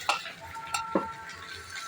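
Tomatoes go into a pan of well-browned frying onions, with a soft steady sizzle and a few close clinks and scrapes of a spoon stirring, in a home kitchen cooking prawn curry.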